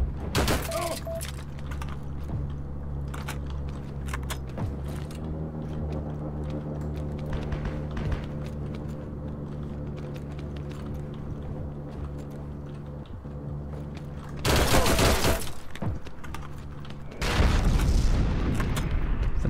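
Gunfire crackles from several directions in the Heroes & Generals World War II shooter, scattered shots over a droning engine-like bed, with two loud close bursts near the end and a voice talking at times.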